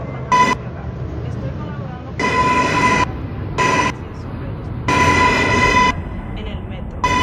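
A New York subway 4 train rumbles along steadily, overlaid with a repeating series of loud electronic tone bursts of varying length.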